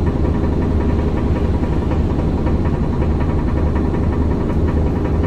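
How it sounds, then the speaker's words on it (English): A bus engine running in Japan gives a loud, steady low hum and vibration that holds evenly throughout with no talk over it. "I just got on a bus"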